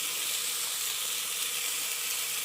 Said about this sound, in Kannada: ಈ ರೀತಿ ಒಂದು 5 ನಿಮಿಷ ಹಸಿ ಸ್ಮೆಲ್ ಹೋಗೋ ರೀತಿಯಲ್ಲಿ ಅದನ್ನು ಬಾಡಿಸ್ಕೊಂಡ್ರೆ ಸಾಕು